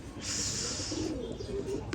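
Firozpuri pigeons in Bangladesh, a short close bird call with a bright sustained tone at the start, then soft low cooing over a steady background murmur.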